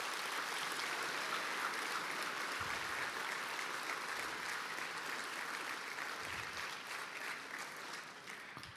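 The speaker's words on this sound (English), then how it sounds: "Can we give those individuals a round of applause?" High school students at Ashland High School applaud honored individuals during a colonel's address, a continuous, even roar of clapping from a large crowd in a big hall that tapers slightly at the end.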